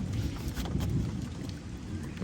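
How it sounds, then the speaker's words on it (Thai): Rain pours steadily while deep thunder rumbles underneath, a dense, constant wash of sound with no pauses. "ฟ้าร้องดังมาก"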